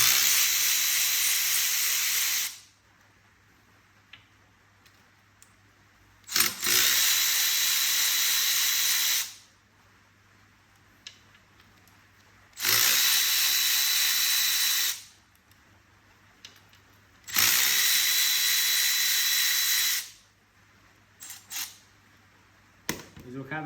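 Bolts of 10mm size come off an aluminium engine cylinder in four separate bursts of loud, hissing tool noise, each lasting a few seconds, with quiet gaps and small clinks in between.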